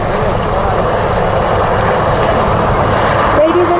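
Indian Navy Sea King and ALH helicopters fly overhead during a naval demonstration at Puri. Their engines make a loud, continuous roar, and a public-address commentator talks over it.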